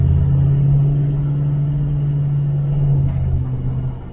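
A restored 1978 Chevrolet El Camino SS pulls along the road with a loud, steady low engine drone and rumble that holds even, then eases off near the end.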